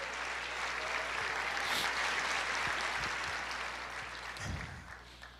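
A church congregation claps together in praise during a service, a dense sustained wash of applause that swells slightly mid-way and tapers off, with a low hum underneath.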